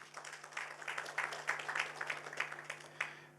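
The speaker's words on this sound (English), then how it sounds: "Can we give him another round of applause?" Audience applause at the Eswatini Young Academy of Sciences launch, a steady patter of many hands clapping for the whole stretch over a low constant hum.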